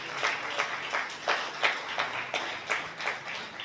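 Congregation in a church applauding during a Sunday service, a steady run of soft, roomy claps repeating at a quick even pace, moderately distant.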